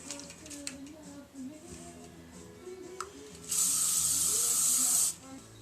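A steady hiss of hairspray on a vintage hairstyle lasts about a second and a half, close and loud, after a stretch of quiet speech.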